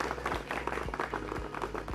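A studio audience at a farmers' agricultural programme in Amritsar claps to welcome crop experts, a brief burst of mixed, moderately close applause with low hum underneath.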